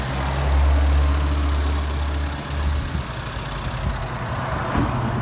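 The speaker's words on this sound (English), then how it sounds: "He said the ticking on the Chevy Cruises is a purge valve, and not to worry about it." A Chevy Cruze engine idles steadily up close, its low hum holding even throughout with no voices.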